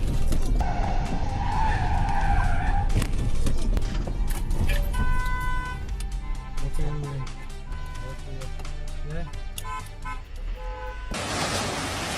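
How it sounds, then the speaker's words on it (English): A speeding car skids across a road and crashes into another vehicle: loud tire screeching and engine roar with a horn-like tone, a harsh impact burst near the end, voices faintly mixed in. "A speeding car skids across the road and crashes into another vehicle."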